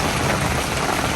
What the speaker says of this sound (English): It's raining hard. It's raining very hard.